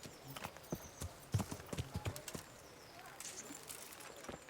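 Horse hooves clip-clopping in Kingdom Come: Deliverance, a series of uneven, fairly close knocks that thin out toward the end, with soft background ambience and faint birdsong.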